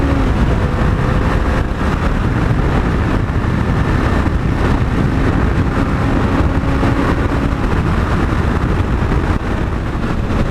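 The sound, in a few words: Honda CB500X motorcycle accelerating onto the freeway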